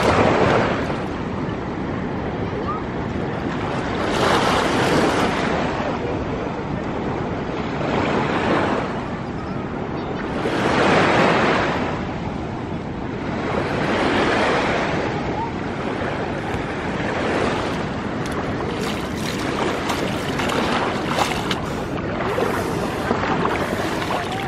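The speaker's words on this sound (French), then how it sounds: "Je vous laisse apprécier le bruit de la mer." Waves wash onto a beach in slow, repeated surges, each swell rising and receding over a steady roar of surf with some wind noise.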